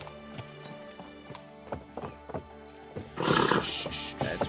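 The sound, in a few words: horse galloping and neighing in video game Kingdom Come Deliverance 2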